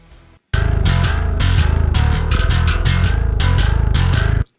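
A bass guitar DI split into low, distortion and grit channels plays a loud, driving metal riff with chugging, rhythmic repeated notes, heavy and distorted, close and dense from start to finish.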